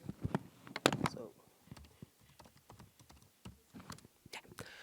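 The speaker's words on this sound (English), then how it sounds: "Typing with just one hand is difficult." Quiet, irregular clicking of computer keys being typed with one hand, uneven bursts of taps close by in a still room.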